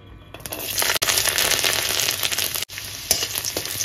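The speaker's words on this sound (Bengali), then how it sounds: "তেল গরম হয়ে গেছে, তেলের মধ্যে দিয়ে দেবো রসুন।" Garlic dropped into hot refined oil in a kadai, bursting into a loud, close, continuous crackling sizzle that swells and stays dense, with a couple of brief breaks.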